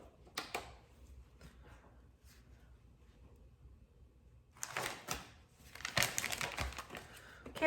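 Plastic bags crinkle and rustle as fresh ears of corn are bagged up, with light handling noise building into a louder burst of crackling toward the end, close by.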